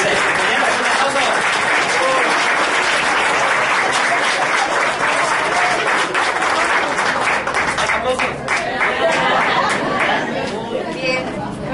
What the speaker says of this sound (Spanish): Y adelante, compañeros, un aplauso